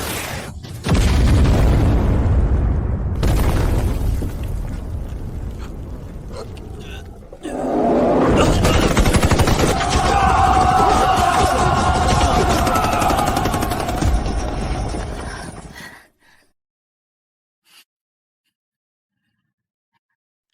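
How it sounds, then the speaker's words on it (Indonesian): A drama scene erupts in loud, sustained booms and roaring blasts of gunfire and explosions, one long barrage breaking into a second rumbling burst before cutting to near silence with a single faint pop. "Arahkan dan tembak."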